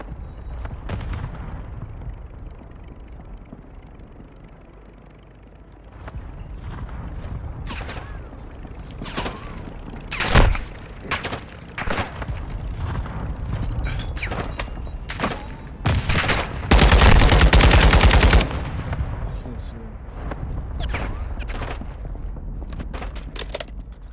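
Gunfire in a Las Vegas-themed video game, with sharp loud shots scattered throughout, a dense rapid burst of fire near the middle, and constant background rumble and effects.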